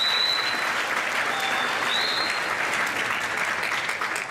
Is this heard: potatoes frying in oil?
no